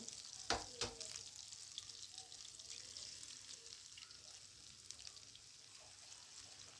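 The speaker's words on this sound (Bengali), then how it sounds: "ডিমটা এভাবে নেড়ে দেব মাঝখান দিয়ে" Beaten egg fried and stirred in a pan with already-fried chicken and onion for chicken chow mein, giving a faint, steady sizzle with a couple of sharp utensil clicks near the start.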